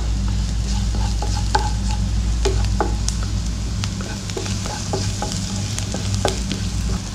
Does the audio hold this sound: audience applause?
no